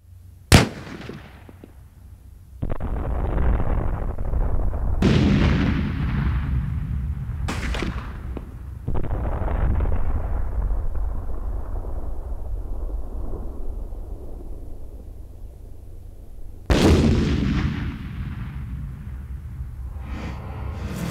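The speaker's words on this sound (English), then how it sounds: "Let's get to shooting them." Gunfire at Zombie Industries 3D zombie targets on an outdoor range: five loud, sharp reports spaced several seconds apart, each trailing off in a long rolling echo, with no talk.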